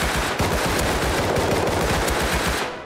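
Rapid sustained automatic gunfire in the Rust video game, a dense continuous burst of shots close and loud for nearly three seconds, fading at the end with no talking.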